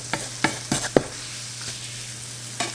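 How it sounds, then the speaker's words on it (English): Taco meat and seasoning worked around a hot pan, a handful of sharp spatula scrapes and taps in an uneven rhythm over a steady low sizzle, close up with no speech. "you just stir it in, get that nice orange color as you work the seasoning around in the meat"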